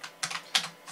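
Several quick keystrokes on a computer keyboard used to enter commands while repairing a 1980s hard drive, close and fairly quiet, with no talk.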